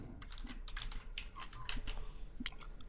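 Fingers typing on a computer keyboard, a quick irregular patter of close, crisp key clicks without a pause and no talking.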